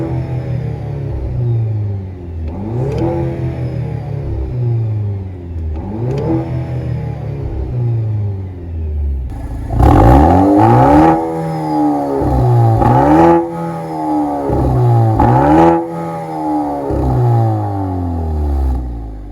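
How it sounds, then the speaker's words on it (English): 2-litre engine of a 2023 Maserati Grecale Modena, revved hard several times from idle, each rise and fall loud and close, with a sharper, louder burst of revs in the second half. "I think we should probably hear what it sounds like, right? A 2-liter Maserati."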